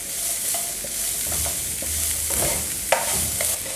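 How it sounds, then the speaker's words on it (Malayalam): Sliced onions and two small green chillies sautéing in oil for a bakery-style chicken roll filling, a steady close sizzle broken by scraping stirs and a sharp clink near the end, with no talking. "സവാളയുടെ കൂടെ 2 ചെറിയ പച്ചമുളകാണ്, അതുകൂടി ചേർത്ത് നമുക്ക് നന്നായി വഴറ്റിയെടുക്കാം"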